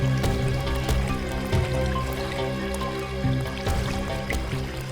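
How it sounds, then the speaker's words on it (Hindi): Water flowing and trickling nearby, a continuous broadband wash with drips and splashes, steady and fairly loud with no talk over it. "इस तरफ से पानी के बहने की आवाज आ रही है"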